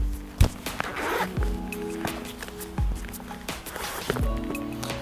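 Zippers on a compact messenger camera shoulder bag by K&F Concept are pulled open and closed several times, in short, close rasping strokes mixed with rustling and handling bumps.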